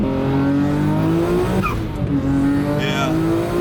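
A twin-turbo Nissan GTR, an R32 or R34, accelerates hard close by with a rising engine note through gear changes and a brief squeal, and people talk over the roar.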